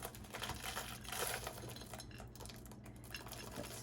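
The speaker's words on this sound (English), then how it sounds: "Put that in, stir it around" Trail mix of nuts, cranberries and raisins stirred into suet in a bowl, giving faint scraping and clinking of a utensil against the dish with small rattling bits, quiet and continuous, no talking.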